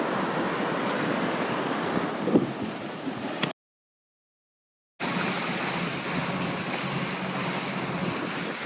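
Ocean waves and strong wind on a sailboat in the rough open Atlantic Ocean, a loud continuous rush with wind buffeting the microphone, broken by a short stretch of complete silence.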